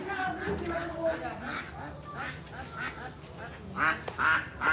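Ducks brought along by a vendor quack in repeated nasal bursts, growing louder near the end, mixed with people talking nearby.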